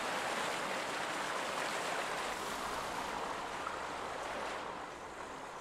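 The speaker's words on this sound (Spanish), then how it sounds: "Que se está llenando de agua esto." Water rushes and floods steadily into an enclosed space in the survival game Raft, a continuous loud wash with no clear breaks that eases slightly near the end.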